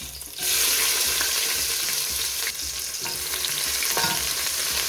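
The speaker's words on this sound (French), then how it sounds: "dans une casserole ou une sauteuse, vous mettez un peu d'huile et vous venez rajouter les oignons" Steady loud sizzling of onions frying in hot oil in a pan, continuous crackle with occasional stirring scrapes, no talking.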